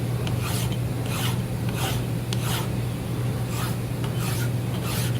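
A hand file rasps across a steel drill point gage in steady, evenly spaced strokes, each a loud close scrape, over a constant low hum and with no talking.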